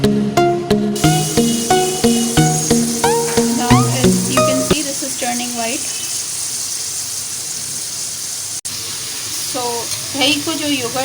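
Chicken pieces frying in a pan for karahi, a steady close sizzle that sits under tonal music for the first few seconds and is then heard alone.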